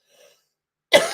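A single sharp human cough, close and loud, after a moment of near silence with a faint murmur.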